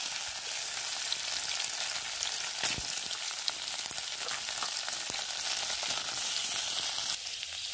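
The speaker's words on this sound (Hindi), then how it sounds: "मु पनीर को फ्राई हेबा पई छाडी देली" Paneer frying in hot oil in a pan, a steady close crackling sizzle with scattered sharp pops throughout, no voices.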